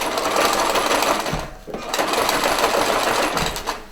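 A sewing machine stitches a seam to attach bias binding, its needle chattering rapidly and steadily at close range, with a brief dip in speed midway before it resumes running.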